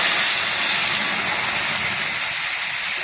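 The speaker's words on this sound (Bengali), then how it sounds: "কড়াইয়ের মধ্যে আরেকটু তেল দিয়েছি, ওর মধ্যে দিয়ে দেবো একটা শুকনো লঙ্কা, একটা তেজপাতা, 1 চামচের মতো দিয়ে দেবো গোটা জিরে" Whole cumin, a dry red chilli and a bay leaf fry in hot oil in a karahi, giving a steady, loud, dense sizzle and hiss that holds evenly throughout with no voices.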